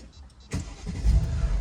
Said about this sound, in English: I'm gonna put it in park and I'm gonna start it back up